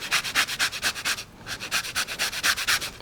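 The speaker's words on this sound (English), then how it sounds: "So we're just gonna go ahead and zest this." A lemon is zested with quick, rhythmic rasping strokes, about a dozen close, crisp scrapes with a short pause partway through.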